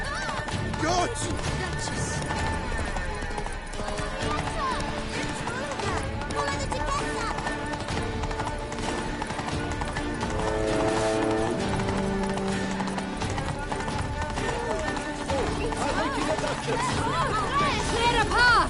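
Horse hooves gallop in a rapid, continuous clip-clop through a town in The Witcher 3, under a busy layer of game music, shouting and crowd noise throughout.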